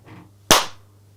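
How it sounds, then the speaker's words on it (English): A single sharp, loud hand clap struck judo-chop style for audio sync, a crisp isolated crack in near silence with a quick decay. "Judo chop clap."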